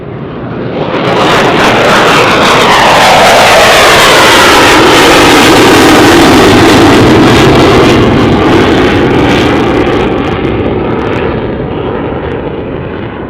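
An F-16 military fighter jet at Tucson International Airport roars past, a loud, sweeping jet-engine blast that swells, holds and slowly fades as the pitch shifts with the passing aircraft, with no talk.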